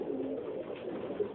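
Black Dane pigeon cooing steadily, a soft, low, continuous throaty coo lasting the whole moment at close range, with no talking.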